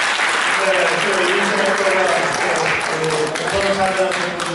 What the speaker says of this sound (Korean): 박수 주셨습니다